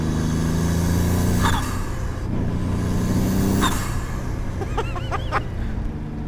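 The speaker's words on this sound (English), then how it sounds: "you also get all these massive chatters and fizzes from the wastegate as it opens and closes and dumps boost" A steady, loud engine drone from a road-legal 1.0-litre EcoBoost Formula Ford race car, with sharp fizzing, chattering bursts from the wastegate as it opens and dumps boost, close up.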